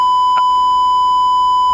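A single short electronic beep sounds in a video game roleplay session, sharp and clear over a steady tonal hum, then stops quickly with no voices.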